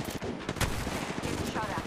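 Rapid gunfire in the Apex Legends Mobile game: loud, dense bursts of automatic shots crackle over a busy background, with brief voice callouts mixed in.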